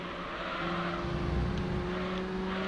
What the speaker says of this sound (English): Absolutely over-revved the engine there.